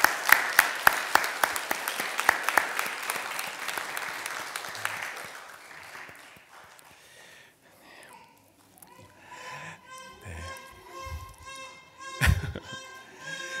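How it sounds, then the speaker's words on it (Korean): A Korean church congregation at an Easter Sunday service and infant baptism claps in a short, fairly faint burst of distinct individual claps. The clapping fades after about six seconds into quiet shuffling and soft bumps. "뒤돌아서 인사하실 때 우리 박수로 축복해 주시겠습니다"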